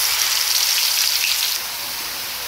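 Spice masala and cumin seeds fry in hot oil with a loud, dense, steady sizzle that eases slightly partway through. No voices are heard.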